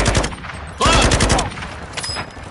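Bursts of gunfire in Call of Duty Warzone, sharp rapid shots in quick clusters with a heavier volley in the middle, sounding close and loud during play.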